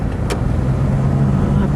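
Road traffic on Hames Road in Pleasant Valley, heard from inside a moving car: a steady close engine and tyre rumble with a low drone throughout.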